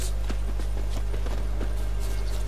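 Horse hooves clip-clop at an even walking pace in The Witcher 3, a string of soft, regular thuds sitting over a constant low electrical hum.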